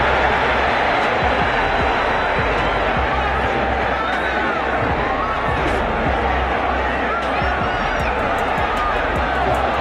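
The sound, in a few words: boxing crowd cheering in Las Vegas arena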